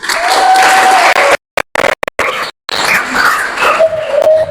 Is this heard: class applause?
yes